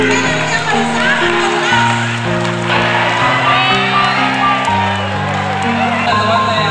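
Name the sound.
students applauding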